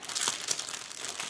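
Diamond painting drills being packed away, a rustling, crinkling plastic sound with a few sharp crunchy bursts, close and fairly steady throughout.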